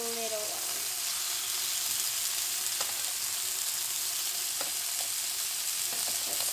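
A steak for steak au poivre frying in a hot pan, giving a continuous even sizzle with a few faint taps, after a brief voice at the very start.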